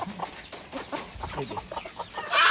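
Chickens and roosters cluck in a steady, overlapping chatter on a local chicken farm, several birds close by.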